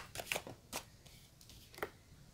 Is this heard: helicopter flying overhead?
no